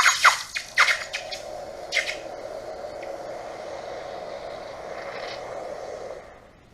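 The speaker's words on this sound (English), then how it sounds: "You can hear it sizzling right now because there's still some kind of condensation on the pliers from the last pour" A hot cast aluminum ingot sizzles as it is quenched, held in pliers still wet from an earlier pour; a few sharp hissing bursts give way to a steady, faint, high sizzle that fades out.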